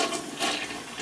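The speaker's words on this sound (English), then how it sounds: "I'm going to flush it, and we'll see what happens." A faulty toilet flushes with a rushing, hissing surge of water, steady and close throughout the short stretch.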